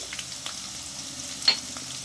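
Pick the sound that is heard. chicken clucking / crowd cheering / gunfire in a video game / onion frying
onion frying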